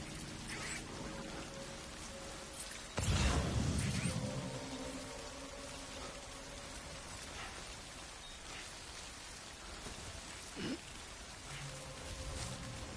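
Steady rain falls in the video game Death Stranding, a continuous soft hiss of drops on surfaces that stays faint and even, with one louder rumbling swell early on.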